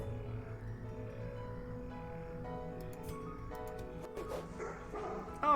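Dogs barking in the dark fantasy video game Darkest Dungeon, a few yappy barks in the game's combat sounds over a steady droning soundtrack, with sharper hits near the end.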